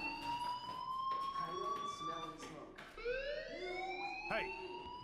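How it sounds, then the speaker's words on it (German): A fire alarm rings inside the video game Life is Strange, rising and falling electronic wails repeating over a steady game background with another tone sweeping in partway through, and no one talking. "do you hear that fire alarm? That means you should be outside."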